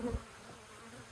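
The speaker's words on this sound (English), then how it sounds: "So now I don't have nearly as many bees in here." Honey bees buzz around an open hive during an inspection, a soft, continuous drone of many insects with a brief louder knock at the start, faint overall.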